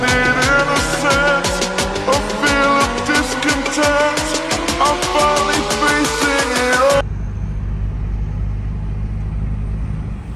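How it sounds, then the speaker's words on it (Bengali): Rented self-drive car travelling the road from Guwahati to Shillong, a steady engine and road rumble with a rising whine as it accelerates, loud and close. The noise drops abruptly to a softer, muffled road hum near the end. "এটা হচ্ছে আমাদের সেলফ ড্রিভেন কার, রেন্ট নিয়েছি আমরা ফর 6 to 7 days"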